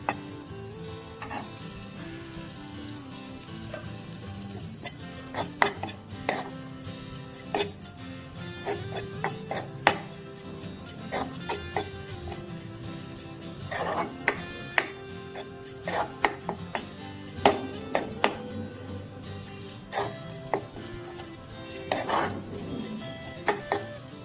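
Steady sizzling of lapsi frying in a pan, broken by frequent clinks and scrapes of a spoon stirring against metal, with no talking.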